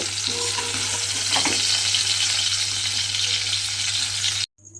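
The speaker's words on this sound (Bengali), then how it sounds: "ঢ্যাঁড়সগুলো আমার এখানে লাল করে ভাজা হয়ে গেছে, দেখুন।" Okra sizzles steadily in hot oil as it fries until reddened, a dense crackling hiss close by, with a faint low hum beneath; it cuts off abruptly at the end.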